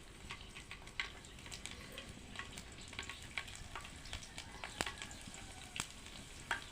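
Cumin seeds and crushed garlic sizzling steadily in a shallow layer of hot oil, a continuous crackle peppered with sharp pops and spits, close and moderately quiet with no voices.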